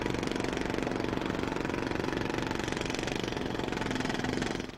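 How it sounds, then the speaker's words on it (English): Loud machinery or a power tool running steadily, a continuous rattling engine drone with fast regular pulsing throughout, alone without voices. "Loud machinery or tools."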